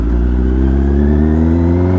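A motorbike engine idles and revs close by in a continuous loud low rumble, holding steady for a couple of seconds with no talking.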